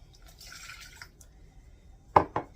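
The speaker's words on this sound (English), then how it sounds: "we need a cup of water." A cup of water is poured into cake batter mix with eggs, giving soft trickling and dripping sounds followed by two short, louder splashes near the end.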